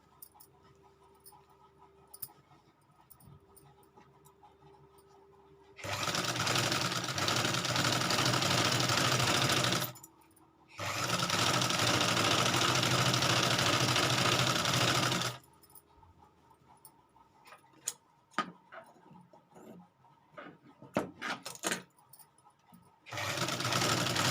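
Sewing machine stitching salwar fabric, running in two long steady bursts of about four to five seconds each with a pause between, and quieter handling noises before and after.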